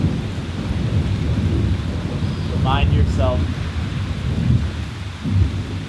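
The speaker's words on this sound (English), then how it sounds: "as you listen to the calming sounds of the rain" Steady rain and low rumbling thunder fill the background, with a few distant chirps, while a person speaks softly over it.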